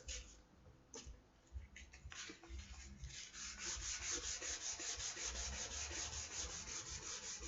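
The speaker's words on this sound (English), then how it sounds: "I'm not doing heavy sanding." Light hand sanding of a varnished guitar body between coats, a soft rhythmic rubbing hiss of fine abrasive strokes, starting sparse and becoming a steady back-and-forth scratching, close and fairly quiet.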